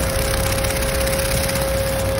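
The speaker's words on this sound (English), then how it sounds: "This boom mower is doing a little roadside maintenance with the equivalent of a massive weed whacker" A tractor-mounted boom mower cuts roadside vegetation with a continuous loud engine drone and a steady high mechanical whine, unbroken throughout.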